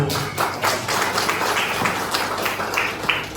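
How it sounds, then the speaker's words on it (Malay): Clapping audience at a graduation ceremony, uneven and fairly sparse, with individual hand claps and a few taps and thumps standing out from the crowd. "beri tepukan yang gemuruh"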